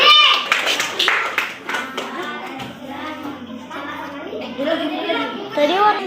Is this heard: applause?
yes